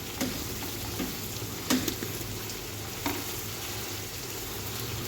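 Ginger and garlic frying in oil in a pan for mutton biryani, a steady close sizzle with a few brief stirring clatters, no voices.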